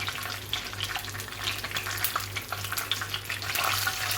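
Chicken fries in a pan, giving a steady, fairly quiet sizzle with crackling bursts, heard close with no one speaking.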